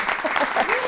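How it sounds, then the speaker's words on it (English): A short burst of applause with many hands clapping close and loud, over in under a second. "Applause!"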